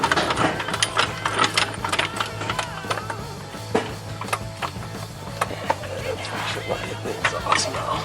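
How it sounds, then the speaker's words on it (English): A ratchet on an 18mm socket works loose the subframe bolts on a Cadillac, giving a quick string of sharp metallic clicks and knocks that come in bursts over a low mechanical drone. "we're going to have to loosen these top bolts off in here"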